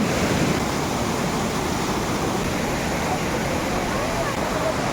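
Steady rushing water of a waterfall pouring down at Panchalingeshwar, a broad continuous roar filling the whole scene without letup.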